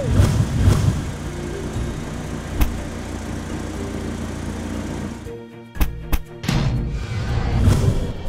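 A sports car engine runs at a steady, buzzy idle for several seconds, then a brief drop is followed by a few sharp thuds before the engine hums loudly again.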